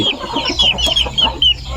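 A chicken clucks close by in a rapid series of short, repeated calls over a low steady background hum, with no talking.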